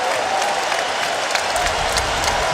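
Crowd noise at a college basketball game between Florida State and Virginia, a loud sustained mix of cheering and clapping with scattered whistles and shouts rising out of the roar.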